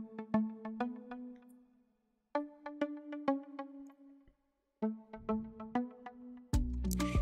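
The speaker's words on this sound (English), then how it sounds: "I added this pluck sound from a plugin called Spiral" A bright synth pluck, the Trans Pluck A Side preset from the Spiral plugin, plays short melodic phrases in an Afrobeat production, with notes ringing briefly and gaps of silence between runs, ending in a denser burst.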